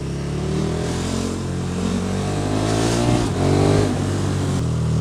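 KTM Superduke 1290 R motorcycle being ridden, its engine giving a steady loud drone with small rises and dips in revs throughout, continuous and close.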